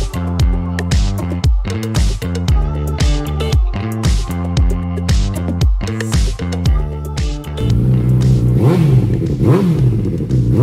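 2018 Honda CBR1000RR Fireblade SP ABS sportbike engine revving hard and close, with a rapid series of sharp throttle blips that give way to a sustained higher rev toward the end.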